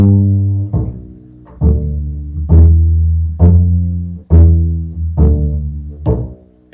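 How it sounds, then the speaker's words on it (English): Bass guitar playing the second line of a blues walking bass line, seven or eight plucked notes in steady rhythm, each ringing deep and full before the next, heard alone and close. "So if you play the whole second line, it sounds like this"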